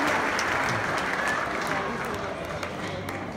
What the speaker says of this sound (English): Let's hear it for Jennifer